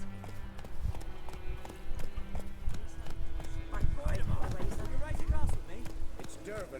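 Roach, Geralt's horse in The Witcher 3, gallops with a steady clip-clop of hooves beneath a background game score, with someone talking over it.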